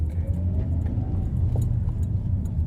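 Toyota Corolla on a test drive, a steady low engine and road rumble from inside the cabin with faint rattles and clicks, no talk.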